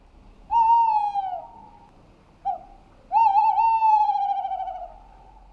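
An owl gives two long, loud, wavering hoots separated by a brief short call, close and clear against a quiet background with no speech.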